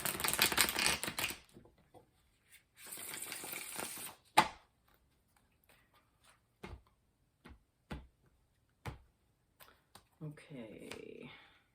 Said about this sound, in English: Give that one more shuffle,